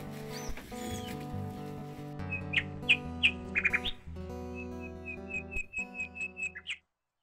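Birds chirp in short, bright bursts, a run of quick repeated tweets following earlier scattered calls over a soft low background hum.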